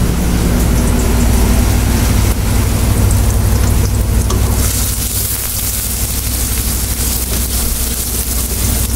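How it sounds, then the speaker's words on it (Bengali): Prawns and grated coconut are stirred in a hot frying pan, a loud continuous sizzle and scraping that carries on for several seconds over a low background rumble, with no talking. "এখন নেড়ে নিচ্ছে"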